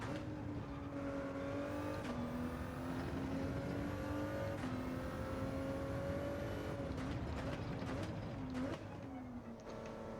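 A Ford GT race car engine in Gran Turismo 7 at Sardegna Road A, a steady loud high-revving drone rising and dipping through gear changes, with brief tire squeals toward the end.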